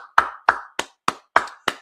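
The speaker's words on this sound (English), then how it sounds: "Let's go ahead and clap it up." Slow, sharp, evenly spaced claps from a small group at an evening class in Kansas City, six distinct loud slaps with near silence between them.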